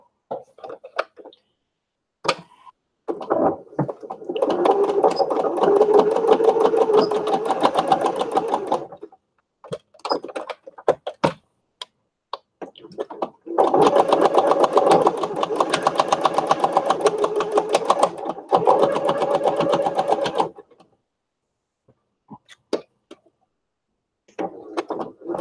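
A sewing machine stitching a stickpin lace book runs in two long steady bursts of rapid mechanical whirring, close and fairly loud, separated by pauses filled with small clicks and handling noises, and no voices.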